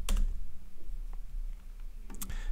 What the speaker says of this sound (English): I can go ahead and type a message.